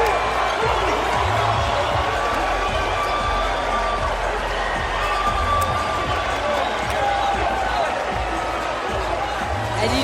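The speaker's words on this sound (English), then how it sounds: "And you just hear this crowd going" A packed arena crowd roars at the 2022 Atlantic 10 tournament basketball game between VCU and Richmond, a loud, steady wall of cheering with voices woven through it.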